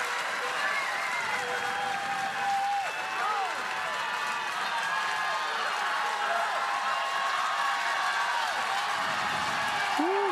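A softball stadium crowd at a UCLA Bruins vs South Carolina Gamecocks super regional game cheers, whoops and claps on their feet, a continuous roar with a lot of whistling that a commentator talks over.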